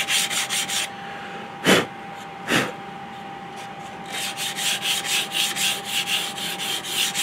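A file and sandpaper rub across a wooden flintlock rifle stock from a Kibler Woodsrunner muzzleloader kit. Quick rhythmic back-and-forth scraping is heard up close, with a pause broken by two heavier strokes, then steady rapid sanding resumes.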